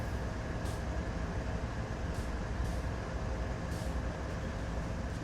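ES44C4 diesel locomotive hauling a grain train in the Train Sim World 3 game, a steady low engine rumble with occasional faint hissing bursts over it.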